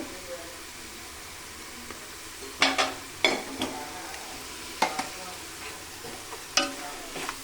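Vegetable pulao with turmeric is stirred in a pan, with sporadic scraping clinks of a spoon over a faint, steady sizzle.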